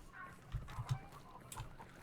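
Chickens clucking nearby, a few soft, short clucks at an irregular rhythm over a quiet background.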